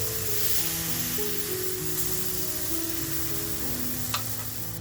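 Butter garlic tiger prawns sizzling in a home tandoor, a steady, close frying hiss with faint crackles and a low hum underneath, continuous throughout.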